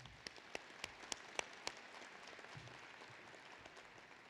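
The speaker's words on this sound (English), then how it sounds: "Please join me in a round of applause for these individuals." Audience applause at a university commencement ceremony, a steady wash of clapping with a few sharper individual claps standing out near the start, moderately distant and even throughout.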